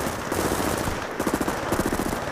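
Rapid automatic gunfire in Battlefield Bad Company 2 hammers on without a break, loud and close, with dense bursts that grow heavier toward the end and no voices over them.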